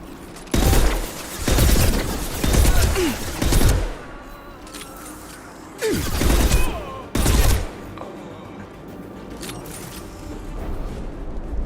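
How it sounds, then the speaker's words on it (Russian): Bursts of automatic gunfire from the Mass Effect 2 Legendary Edition video game come in several loud rapid volleys separated by short gaps, with some quieter combat noise between them. "снайперка прикольная, но все-таки я предпочитаю, чтобы был один выстрел, но с большим уроном"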